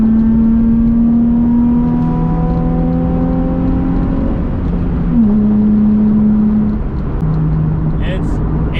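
A Nissan 350Z drift car with heavy modifications pulls hard under acceleration, its engine note climbing in steady harmonic sweeps, dipping at a gear change and rising again, loud and close throughout with no talk.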